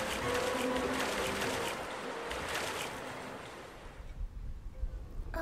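Ocean waves wash steadily around a ship at sea, a broad continuous rush that eases and thins toward the end, with no voices over it.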